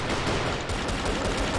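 Dual Colt Volcano pistols fire in the CrossFire video game, a dense, loud, continuous burst of rapid gunshots with no gaps.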